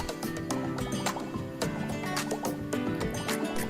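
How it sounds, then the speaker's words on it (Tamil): Ground tomato paste made from five tomatoes goes into a pan of mushroom masala, giving a wet, gurgling sizzle and dripping splashes, close and steady throughout. "5 தக்காளி எடுத்து நல்லா இந்த மாதிரி அரைச்சி எடுத்திருக்கேன், அதை சேர்த்துடலாம்"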